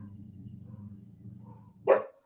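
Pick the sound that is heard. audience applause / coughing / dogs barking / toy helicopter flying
dogs barking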